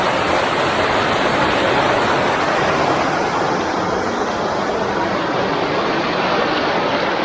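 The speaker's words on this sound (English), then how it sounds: "Look at those tiny waterfalls." Steady broadband rush of flowing water from small waterfalls on Dartmoor near Meldon Quarry, continuous and fairly loud throughout with no pauses.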